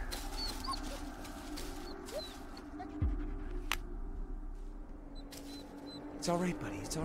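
A dog in the horror game Blair Witch gives a few thin, high whimpers over an ambient outdoor bed with occasional bird-like chirps and a sudden low thud near the middle.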